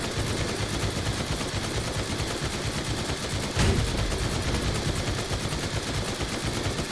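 An assault rifle fires in Night of the Dead, a dense rapid stream of shots with one louder crack partway through, all at steady loudness.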